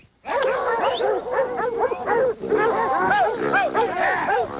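Pack of dogs barks, yelps and whimpers together at a caged-animal hunting site, a dense, continuous clamor of overlapping voices close by, with no talk over it.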